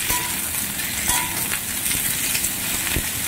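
Potatoes, cauliflower, beans and carrots are stirred in a frying pan for a winter vegetable curry. A steady, loud sizzle of oil runs throughout, broken by occasional sharp clicks and scrapes of the spatula against the pan.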